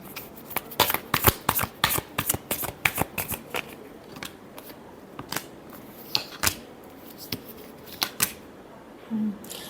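Tarot cards being shuffled by hand, a crisp flurry of close, rapid riffling snaps and flicks coming in uneven bursts for several seconds, with no talk over them.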